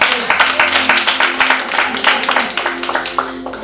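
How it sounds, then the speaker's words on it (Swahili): A church congregation applauds in dense, fast clapping that stays fairly loud throughout, with faint voices mixed in. "Ongezeni makofi haya."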